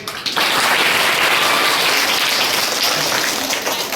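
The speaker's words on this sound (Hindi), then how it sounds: "मैं जब एक बोलूंगा तो हम लोग ताली बजाएंगे" A group of school children at a school camp clapping together in a game, a loud dense burst of many hands clapping that starts abruptly and continues steadily, close and energetic.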